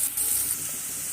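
Chopped onions fry in oil in a pan before spinach is added, a brief steady hiss of sizzling at close range with no voices.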